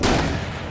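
Gunfire in a video game, a loud, dense, booming blast that fades over a short moment, close with no voices.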